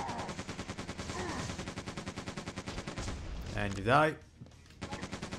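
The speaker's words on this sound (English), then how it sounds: "To the machine gun that uses bullets." Rapid, steady machine gun fire in Quake 2, the bullet-firing weapon chattering in an even rhythm for several seconds, briefly interrupted by a short spoken line and a grunt before the shots resume.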